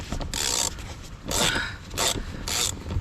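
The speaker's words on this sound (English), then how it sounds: "that's the first bolt for the seat" A ratchet wrench unscrews a seat bolt inside an old car in Russia, giving four rhythmic bursts of rasping clicks with brief pauses between, close and fairly loud.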